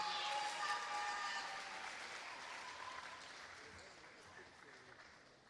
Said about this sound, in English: Please give Dr. Reynolds a big round of applause.